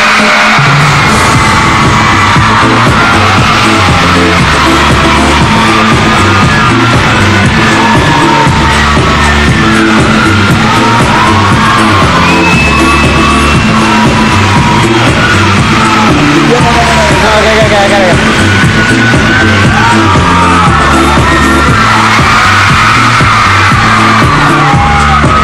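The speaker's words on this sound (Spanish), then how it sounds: "Un aplauso para el señor Robbie Williams." A television studio audience welcomes Robbie Williams onto a Spanish-language talk show with loud, sustained cheering, whoops and yells, packed and continuous over a booming tonal backing.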